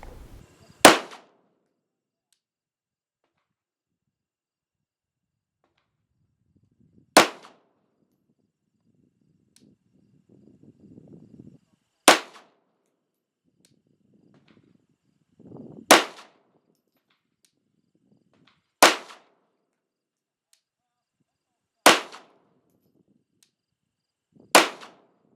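Single handgun shots at a shooting range, seven sharp loud reports spaced irregularly several seconds apart, with quiet gaps and faint low rustling between them.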